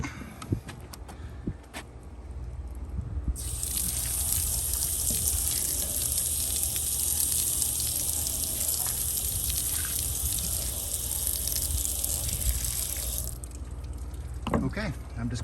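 Water running from a tap while a name plate is cleaned, a steady broadband hiss that starts after a few seconds and runs for about ten seconds before stopping, close by with faint handling clatter around it.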